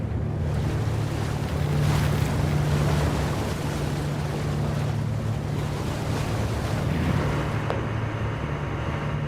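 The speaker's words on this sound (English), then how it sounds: "The boat's engines can't fight the storm," A fishing boat's engines labour at full throttle against storm waves at sea, a steady low engine drone beneath loud, continuous wash of wind and crashing water.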